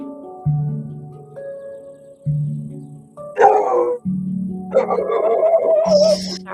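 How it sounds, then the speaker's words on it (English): A pet dog barks at people outside, loud close yips and woofs in repeated bursts with short pauses, growing more insistent toward the end. "Sorry about my dog."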